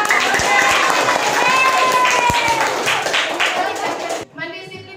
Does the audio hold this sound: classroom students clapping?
yes